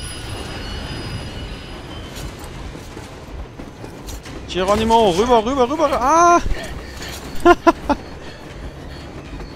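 A train running on rails in Metro Exodus, with a low rumble underneath and loud wheel squeals rising and falling in bursts mid-clip, then sharper screeches. Someone shouts excitedly over it.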